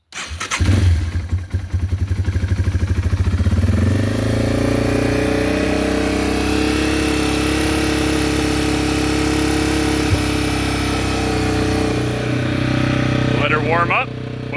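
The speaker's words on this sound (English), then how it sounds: "I turn on my fuel, pull the choke," A motorcycle engine cranks and catches at the start, then settles into a steady, loud idle with a strong low rumble that holds near and constant throughout.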